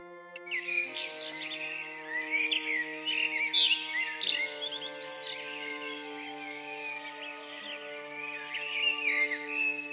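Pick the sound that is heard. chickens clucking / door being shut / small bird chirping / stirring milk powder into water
small bird chirping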